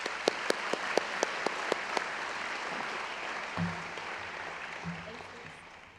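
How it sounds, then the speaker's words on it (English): Applause at a school's end-of-year excellence evening, opening with a few crisp, distinct claps close by before the whole audience joins in steady clapping that fades gradually, with some voices in the room. "So can we give them one last round of applause?"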